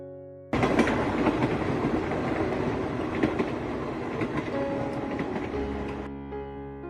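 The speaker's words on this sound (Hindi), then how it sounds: "उस शांत से जंगल में गूंजती हुई वह रेलगाड़ी एक अंधेरी गुफा में चली गई" A train rolls along the tracks through a quiet forest, a dense continuous rumble with rattling clatter that starts abruptly, stays loud and steady for several seconds, then cuts off into a low tone.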